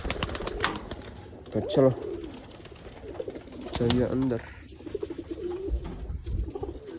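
Pigeons coo softly inside a loft, in short throaty bursts that come and go behind someone talking close by.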